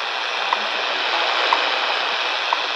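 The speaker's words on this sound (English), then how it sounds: "You can hear the clock ticking in the background." The WWV shortwave time station on a Raddy RF750 portable radio gives faint, evenly spaced clock ticks, one per second, set in a constant loud bed of static hiss.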